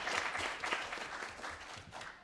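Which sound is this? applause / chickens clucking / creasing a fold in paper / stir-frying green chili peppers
applause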